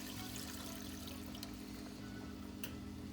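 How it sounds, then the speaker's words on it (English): A milk mixture and ham bouillon poured into a butter roux, a faint steady liquid pour with soft trickling over low background hum. "Now I'm going to add my milk mixture"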